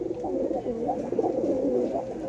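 A pigeon coos continuously in low, throaty, rolling phrases while a person holds it in their hands, close and fairly loud, with no speech.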